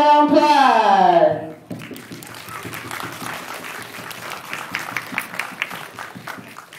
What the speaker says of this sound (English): So let's get a big round of applause.